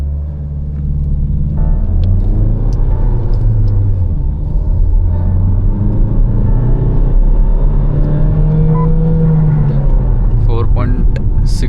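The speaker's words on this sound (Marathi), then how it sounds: "आता आपण गाडी लॉन्च करतोय." A Jeep Compass launches hard in first gear with traction control off, its engine rumbling and rising steadily in pitch as it accelerates close by, with someone talking over it.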